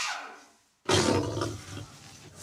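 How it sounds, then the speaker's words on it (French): A lion roar sound effect in a jungle scene: a faint fading growl, a moment of silence, then a loud, close, rough roar that rumbles on for over a second. "Ça, c'est un lion, se dit-il."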